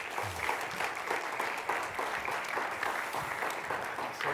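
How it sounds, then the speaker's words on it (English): Students, staff and faculty applaud at a college mobile app launch event, steady crowd clapping heard at a moderate distance and fairly soft, continuing evenly for several seconds without talk. "why don't we give him a big round of applause."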